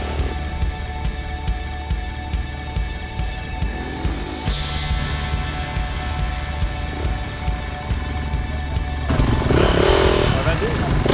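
Supermoto motorcycles warming up before a race, a dense steady engine drone with a revving burst near the end, under someone talking.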